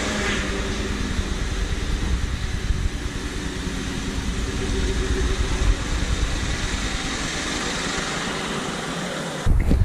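A 2014 GMC Sierra High Country pickup's engine runs steadily as the truck is moved out of a garage, a continuous broadband rumble and hum that cuts off abruptly near the end.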